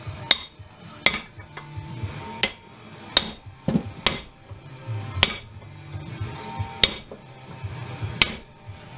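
A hammer drives a chisel held in a vise to crack a weld on a scrap Sharp Carousel microwave oven. About ten loud, ringing metal blows land in a fairly steady rhythm, close up, with a light clatter between strikes.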